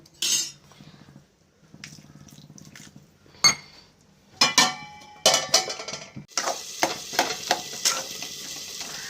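Tomato stew frying in a pan as a spoon stirs it, with bursts of sizzling broken by metallic scrapes and clinks against the pan, turning into a steady louder sizzle punctuated by stirring knocks near the end.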